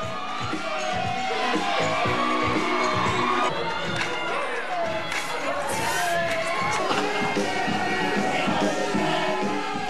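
A campus audience of fellow students cheers loudly at a student fashion show as models stride down the runway, with whoops and shouts rising over music and holding steady throughout.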